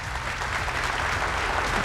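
An audience at a bass fishing tournament weigh-in on Lake Okeechobee claps in a dense, steady wash of applause from start to finish.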